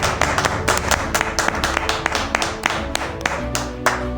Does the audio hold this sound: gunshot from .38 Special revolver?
no